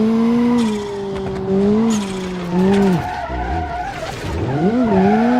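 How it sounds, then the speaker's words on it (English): Tires skid and squeal loudly under hard braking as a rally car slides in the BeamNG.drive racing game, the engine note rising and falling over about five seconds of sliding. "Alright, on the brakes."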